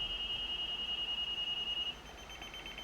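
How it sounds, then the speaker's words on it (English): A school bus child check system sounds a rapid series of high-pitched electronic beeps after being disarmed, steady and evenly spaced, then they stop and leave quiet cab noise. "you get a series of beeps indicating that child check system has been disarmed and deactivated."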